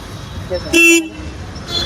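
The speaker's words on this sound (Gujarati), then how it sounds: "ઓટોમેટિક હોર્ન મારી દીધો" A single short car horn toot sounds loudly and close, over a quiet background.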